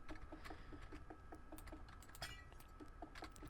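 Keys clatter on an old, cheap Dell computer keyboard from around 2005, a quiet but steady run of individual taps at a brisk typing rhythm, heard close and without talk.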